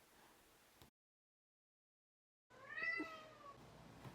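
A neighborhood cat meows at night in Montreal, one drawn-out wavering call after a brief gap of silence, heard alone over faint background hiss.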